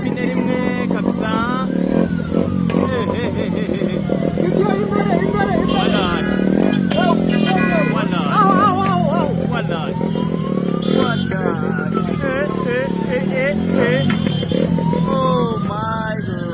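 A motorcycle revs and roars loudly while a rider pulls a one-wheel wheelie at a lively outdoor campaign rally in Rwanda, the engine rising and falling over a dense crowd and excited commentary throughout.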